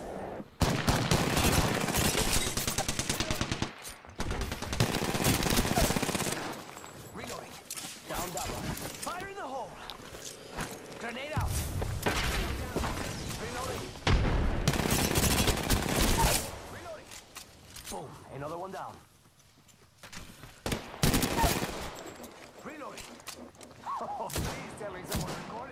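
Heavy Apex Legends gunfire in a fast-paced match: long automatic bursts and repeated loud shots come in waves and stay close, with players talking over much of the action.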